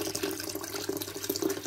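A water pump switched on by a home automation setup, giving a close, continuous splashing flow of running water with faint rhythmic pulses.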